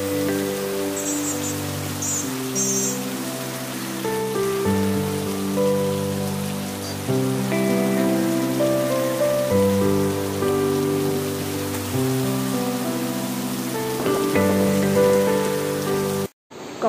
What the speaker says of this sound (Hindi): और बारिश इतनी तेज़ हो गई है झमाझम।